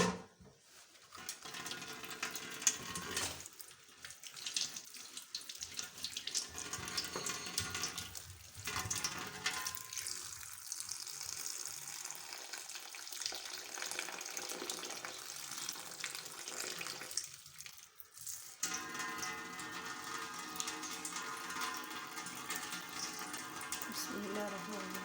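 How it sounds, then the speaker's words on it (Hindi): Tomatoes being washed under a running kitchen tap while making veg pulao, with a steady broadband rush of water that briefly stops and restarts a few times over about 25 seconds, no talking. "टमाटर धो लेंगे।"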